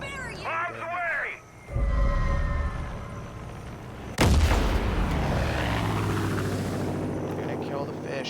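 In a Far Cry 5 game, bombs drop and explode: a heavy blast booms in mid-clip and then rumbles on with a long roar, under engine drone and sirenlike tones, with voices and shouting early on.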